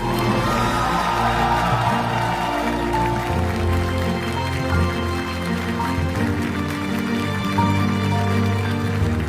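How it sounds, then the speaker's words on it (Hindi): An audience applauding to welcome a Nirmal Gram award honoree on stage, a broad continuous wash of clapping heard steadily throughout at an even, moderate level. "तालियों के साथ अभिनंदन एवं स्वागत किया जाए"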